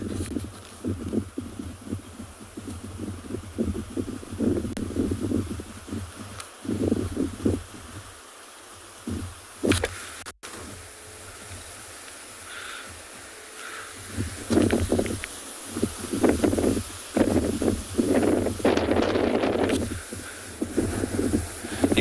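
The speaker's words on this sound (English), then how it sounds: "It's very gusty here this morning." Gusty morning wind on an African safari reserve at sunrise, buffeting the microphone and rustling grasses and trees in uneven surges and lulls, loud and close, with no talking.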